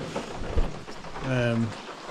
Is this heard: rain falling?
yes